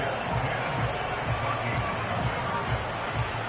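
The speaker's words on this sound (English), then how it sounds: "Big crowd on hand." Stadium crowd at an American football game at Wembley, a broad, distant murmur of many voices with a faint rhythmic thumping beneath, under a commentator's talk.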